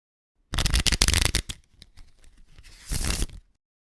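A deck of playing cards being shuffled close up: a quick burst of riffling flutters, a few softer scattered snaps, then a final dense riffle, all alone against silence.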